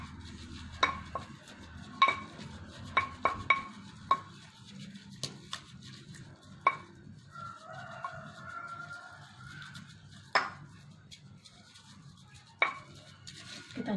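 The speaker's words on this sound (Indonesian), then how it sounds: "Setelah ditambahkan dengan air, kita aduk lagi." Plant mixture with water for a natural acid-base indicator stirred in a container, giving intermittent light clinks and taps of a spoon against the vessel, spaced irregularly over a quiet background with faint low hum.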